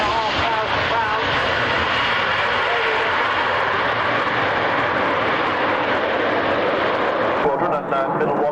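A Harrier jet's Pegasus engine winds up at an airshow at Middle Wallop in 1996, a loud sustained roar with a whining high edge, dropping briefly near the end.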